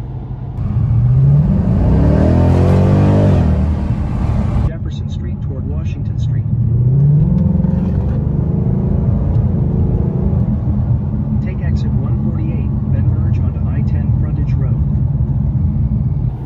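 A 2022 Ford Mustang Shelby GT-H V8 rumbles steadily while driving, with a rising rev early on, loud and close throughout.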